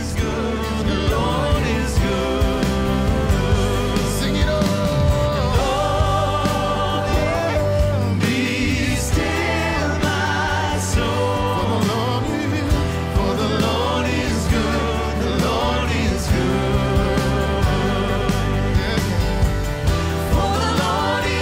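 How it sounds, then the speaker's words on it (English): A self-written worship song, Be Still, The Lord is Good, recorded with a church, plays as a full band and vocal arrangement, steady and loud throughout with dense layered instruments and sustained melody. "what you just heard is part of a song called Be Still, The Lord is Good that I wrote recently and recorded with my church"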